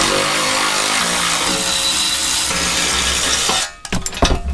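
13 mm skid plate bolts removed from a RAM 1500, a loud, continuous power-tool buzz up close that cuts off near the end, followed by a few scattered clanks and rattles.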